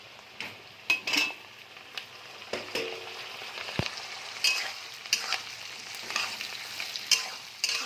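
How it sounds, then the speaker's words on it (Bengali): Capsicum frying in a pan with onions, with a soft sizzle under repeated spatula scrapes and clinks against the pan, close and irregular. "এটাকে একটু বেশিক্ষণ না, 1 মিনিট মতন একটুখানি ভেজে নেব"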